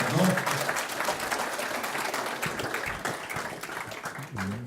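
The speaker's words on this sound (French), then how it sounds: "On peut applaudir quand même." Applause for former basketball player Richard Dacoury at a conference, a fairly steady crowd of clapping hands that thins slightly toward the end, with a voice briefly audible.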